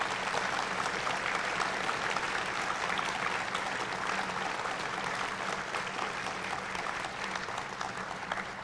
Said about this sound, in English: maybe a round of applause for everybody who would follow him and follow his example